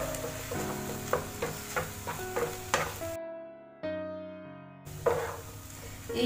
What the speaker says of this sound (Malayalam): ഇതിനകത്തേക്ക് ഒരല്പം സോയ സോസ് ഒഴിച്ചു കൊടുക്കുക.